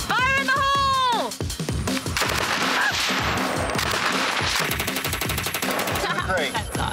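Rapid bursts of gunfire from a fast-shooting gun ring out loud and close, a dense continuous fusillade with brief pauses, while a voice calls out near the start.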